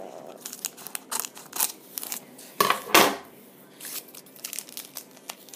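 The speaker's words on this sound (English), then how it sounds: "Trusty pair of scissors." Scissors snip and tear at a cardboard Pokémon card box, irregular crisp cuts and crinkling, with a couple of louder crunching rips midway.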